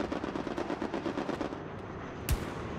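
Rapid bursts of automatic gunfire from a Hell Let Loose infantry battle, a quick rhythmic volley over the first second and a half, then a single sharp, close shot near the end.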